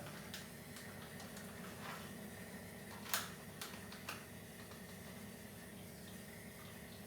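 An RO water purifier machine hums quietly and continuously while water drips from it, with a few faint clicks and taps and no talk.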